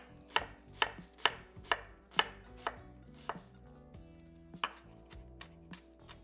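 A knife finely chops onions on a board for a German potato salad made without mayo: a steady run of crisp, close knocks, then a few slower, softer cuts toward the end.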